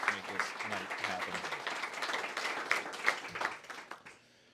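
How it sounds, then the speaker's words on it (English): Applause for local organizers at a community evening event in a pub and lodge, a few seconds of moderate clapping with voices mixed in, fading out abruptly at the end. "a round of applause for our local organizers"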